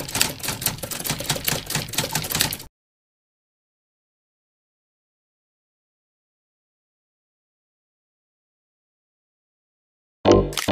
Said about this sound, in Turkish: Windows artı R tuşlarına basıyorum